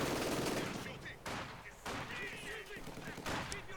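Gunfire from soldiers in the Company of Heroes 2 strategy game, with bursts of rifle and machine-gun fire and a dense battle din, heard under a talking voice.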